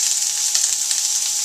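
Shredded white onion sizzling in hot vegetable oil in a pan, a bright continuous hiss with small crackling pops, close and steady throughout.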